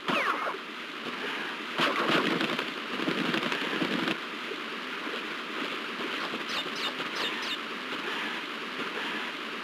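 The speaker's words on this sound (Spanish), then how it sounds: "En esta parte la lluvia está en su punto más fuerte" Heavy rain in Crash Bandicoot 2 at its most intense: a dense, constant downpour hiss filling the scene, with a few louder gusts early on and faint rumbling beneath, no talk.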